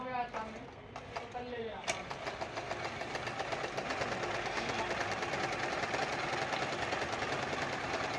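A domestic sewing machine stitches a fall onto fabric, speeding up from a brief start into a steady, rapid, close-up mechanical hum with rhythmic needle ticking, while someone speaks over the opening moments.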